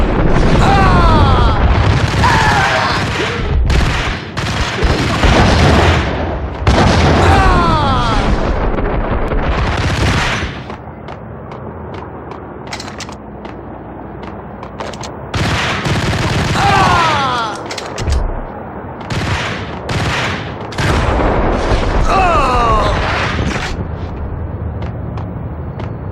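Gunfire and heavy booms from the Max Payne video game on PS2, loud dense bursts of shots and impacts filling most of the stretch, with a quieter lull in the middle, and voices breaking in now and then.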